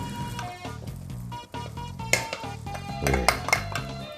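Thinly sliced Chinese garlic sizzles and crackles steadily in a pan over low heat, with clinks of a utensil stirring and scraping against the metal, close and fairly loud.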